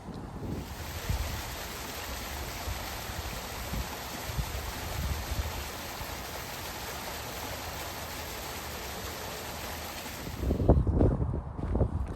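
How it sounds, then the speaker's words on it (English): A small waterfall spills beneath a hiking trail, giving a steady, close, full rush of flowing water that continues unbroken, with a few louder thumps and rustles of nearby movement toward the end. "What a nice little waterfall."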